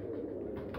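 Pigeons coo softly and steadily for under a second, a low continuous murmur from birds nearby.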